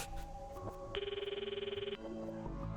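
A phone rings in Steins;Gate 0, a steady electronic trill of rapid repeated pulses lasting about a second, clear and fairly close, with soft background tones around it and no talking.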